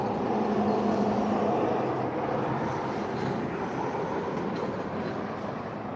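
A train passing at steady loudness, a broad continuous rumble and roar of rolling rail cars that lasts the whole stretch without easing, with no voices.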